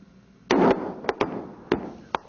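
Rock blasting for a starter tunnel at the Yucca Mountain project in 1994: a series of sharp, booming detonations, one long loud burst followed by several shorter cracks with echoing tails, fairly close.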